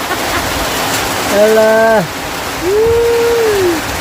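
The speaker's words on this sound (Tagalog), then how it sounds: "lumakas ang ulan" Heavy rain pours steadily on a farm as a constant dense hiss, with a brief voice and a couple of drawn-out tonal calls rising over the downpour.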